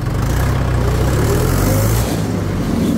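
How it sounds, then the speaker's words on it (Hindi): Mahindra 575 XP Plus tractor engine running steadily during a road speed test, a loud continuous low rumble with a droning hum that holds throughout. "तो ट्रैक्टर में चुस्ती की कोई कमी नहीं है जी, चुस्त बहुत है ट्रैक्टर।"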